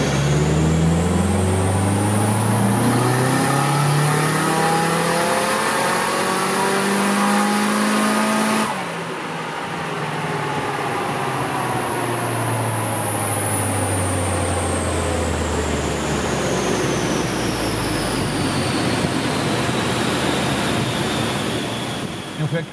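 An SR20DET engine on a dyno with cam timing switched on sweeps steadily upward in a loud, continuous pull, then drops off and winds up again through a second long rising run.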